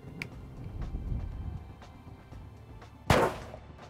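A single loud rifle shot fired at close range to put down a wounded deer during a hunt, a sharp crack after a quiet stretch of faint rustling.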